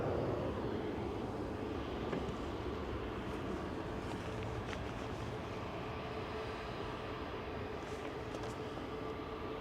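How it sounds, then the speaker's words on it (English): EasyJet Airbus A320neo jet airliner departing Manchester Airport for Copenhagen, heard as a steady, fairly quiet distant engine rumble and roar that holds evenly throughout with no talk. "we've got an EasyJet Neo heading over to Copenhagen"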